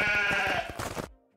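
Sheep bleat from the video game Craftopia, sounded when a sheep is killed, and actually a voice imitating a sheep; one loud, wavering bleat lasting about a second, then silence.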